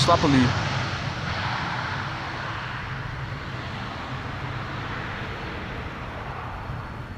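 Airliner landing in a crosswind at Amsterdam Schiphol Airport, a broad, distant jet engine roar held steady throughout, with a brief louder swell at the start.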